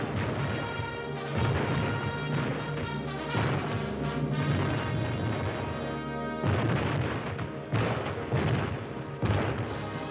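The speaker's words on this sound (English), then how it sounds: "Exploding dynamite in sham skirmishes keyed us to battle conditions" Dynamite charges exploding during sham skirmishes in military dog-handler battle training, heard as a loud, continuous barrage of booms and crashing blasts that rumble on without pause.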